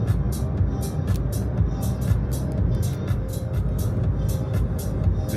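A car rolls steadily along the Icefields Parkway between Banff and Jasper National Parks, a constant low road rumble with soft tire noise and a few faint higher ticks, no voices.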